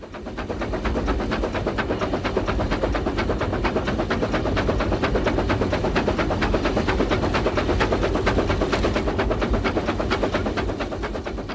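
An oil-burning Baldwin steam locomotive works hard on the Patagonia Express line in Argentina, heard from the cab as a loud, rapid, steady chuffing beat layered over continuous mechanical clatter and roar.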